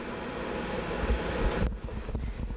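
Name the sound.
air vent noise in radio broadcast studio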